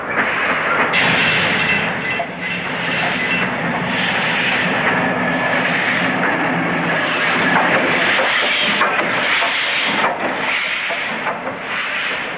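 Steady rumbling clatter of a light steam locomotive, Pendennis Castle, rolling across the Fremantle rail bridge in Western Australia, a continuous loud mechanical roar with rhythmic rail noise.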